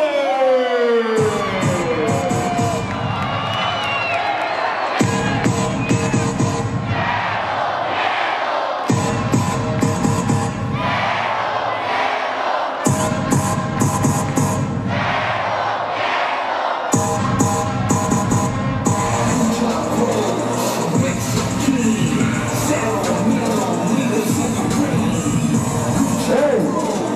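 A wrestling crowd roars for the Lucha Brothers, Rey Fenix and Penta 0M, in loud, surging waves of cheering and shrill noisemakers that swell and break repeatedly over nearly half a minute.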